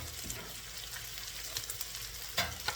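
Cold overnight rice hits a hot pan for shrimp fried rice, giving a steady close sizzle with a few louder crackling bursts as it is stirred.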